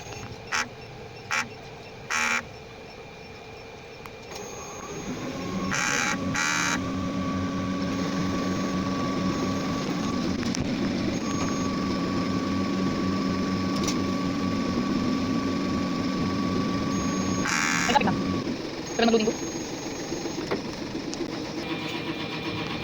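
Sublimation printer running a print head clean, starting with a few sharp clicks, then a steady mechanical hum and whir with a faint tone running underneath, and a couple of clunks toward the end.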